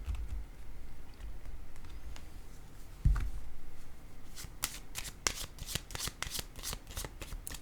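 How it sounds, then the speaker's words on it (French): Tarot-style cards handled on a table, with a soft thump as one is set down, then a run of sharp, riffling card clicks; fairly close and moderately quiet, with no talking. "Je vais déposer une carte ici."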